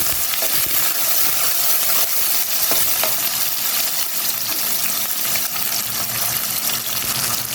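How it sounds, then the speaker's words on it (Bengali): Two chopped onions frying in about three spoons of oil in a pan, a loud, steady, close sizzle throughout with occasional stirring clicks and no talk. "এই যে এখানে 2টা পেঁয়াজ কুচি দিয়ে এটাকে একটু ভাজবো"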